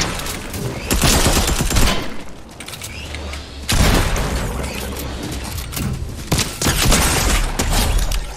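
Heavy bursts of automatic gunfire from a powerful gun in a video game, repeated loud volleys with short pauses between them, under occasional talk.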